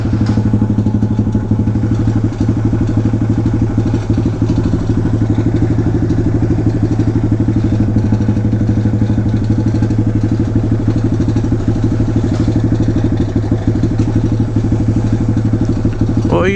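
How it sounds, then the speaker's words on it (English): A Honda Grom motorcycle sits idling close by, its small engine putting out a steady, even chug with a faint metallic rattle ticking along underneath, loud and unbroken the whole time with no talking. "Can't tell what that rattling is, whether it's my bike or not."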